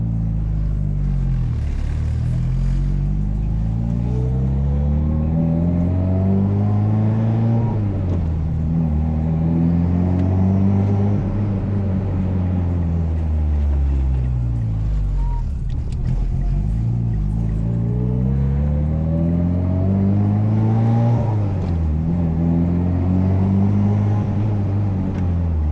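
A 600+ hp Mitsubishi Evo X engine revs up and down repeatedly while driving on empty night streets, each pull rising in pitch through the gears, loud and continuous from inside the car.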